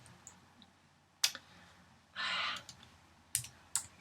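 A few sparse, quiet keystrokes tap on a computer keyboard, scattered clicks around a soft breathy exhale in a quiet room.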